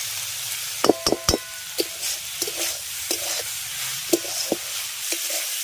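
Banana flower with potato and eggplant frying in a pan, with a steady soft sizzle under a series of sharp clinks and scrapes of a spoon stirring.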